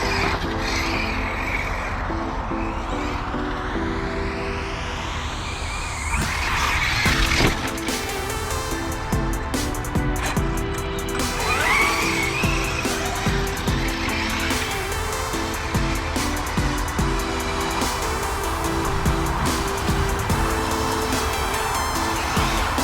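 Arrma Mojave EXB RC car zips around a corner, its high motor whine rising and shifting in pitch with tire scrabbling, steady and fairly close with ongoing outdoor background noise.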